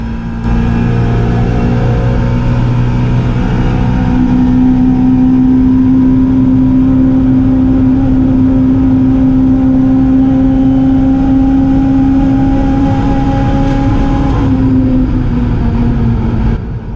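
A Mini Cooper's racing engine holds a loud, sustained high-revving drone throughout, with pitch shifting slightly as it runs at the Goodwood Revival race, heard from close by without pauses.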